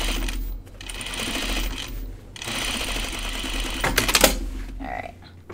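A sewing machine stitches a seam in a jacket sleeve with steady, close, rapid clatter, broken by short pauses between runs.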